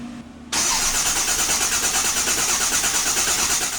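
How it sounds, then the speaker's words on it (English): A short starter crank gives way as an engine catches and settles into a loud, steady rumbling idle close by. "this is how you start a truck"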